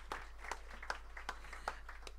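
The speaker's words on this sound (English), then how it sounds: "everyone, round of applause for Anthony" An audience at a live music event gives a brief round of applause, sparse scattered claps sounding faint and somewhat distant.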